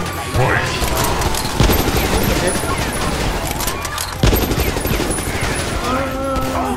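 Rapid gunfire bursts from shooting at police in the video game GTA 5, loud and close, with repeated volleys and mechanical clatter. Game effects layer over the shots.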